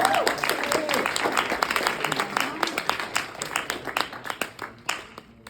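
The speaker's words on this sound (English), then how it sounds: "Let's give Kase another round of applause" Audience applause for Kase Johnstun at a literary reading and open mic, a close, lively round of hand claps that gradually thins into fewer, distinct claps toward the end.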